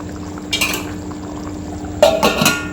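Masala dal khichdi is stirred in a pot at a boil, with two short bursts of scraping and clinking, one brief and one longer, against a low steady background hum.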